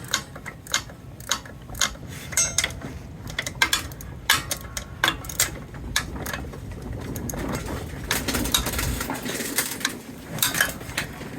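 Long ratchet wrenches click in steady, uneven bursts while tightening the starter bolts on an Onan B series engine in a Case machine, the sharp metallic ratcheting close and alone, with a denser run of clicks near the end.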